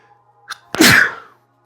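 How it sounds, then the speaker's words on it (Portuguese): One loud, close human sneeze with a short intake before it, bursting out and fading within about half a second in an otherwise quiet room. "Vontade de espirrar."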